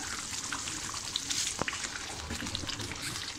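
Paneer masala paste sizzles gently in oil in a pan over low heat, a soft continuous crackle with a few light clinks and scrapes of a stirring spoon; no talking.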